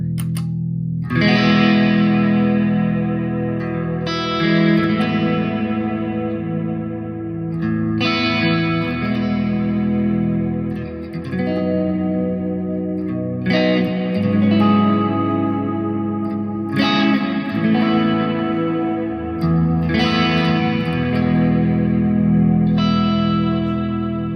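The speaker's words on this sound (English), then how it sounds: "Now, let's get some reverb in here." Electric guitar chords strummed in slow phrases through a Neunaber Seraphim reverb pedal with shimmer off, drenched in long, washy reverb that lets each chord ring and blend into the next.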